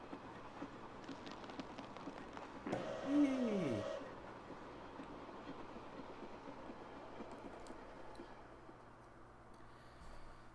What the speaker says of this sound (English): Train's about to pull into Starlight Cape for our final destination.